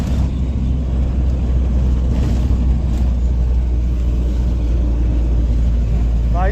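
Interior of a moving city bus on a morning commute, with a constant loud low engine and road rumble that stays even throughout and has no break.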